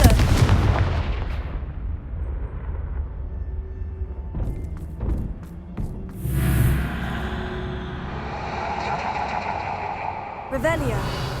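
Blasting spell impacts in the Hogwarts Legacy video game land as a few sharp booming bursts with crackling debris, heard alongside a voice calling out spells and ambient game sounds.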